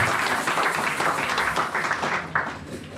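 A church congregation applauds and claps in praise of the Lord, a dense, steady wash of many hands at moderate distance with no break in the sound.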